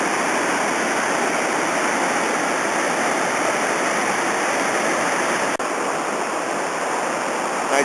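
Whitewater on the Robson River in British Columbia pours over a small four-foot waterfall and rapids, a loud, steady broadband rush that holds constant from start to finish, close by, with no voices.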